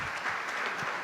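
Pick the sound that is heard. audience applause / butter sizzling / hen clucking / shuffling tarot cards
audience applause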